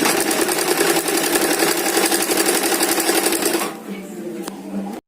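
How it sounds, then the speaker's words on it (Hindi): A sewing machine runs at a steady fast rhythm, stitching fabric for a short suit made from a long kurti, loud and close for nearly four seconds before slowing to a quieter hum and a final stop. "इसके साथ इस तरह से सिलाई लगानी है।"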